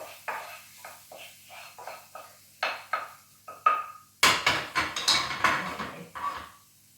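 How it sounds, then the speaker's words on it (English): A utensil stirs couscous in a pot, giving a steady run of light scraping and clinking strokes. The strokes grow busier and louder toward the end, close by with no talking. "I'm going to give that a nice stir."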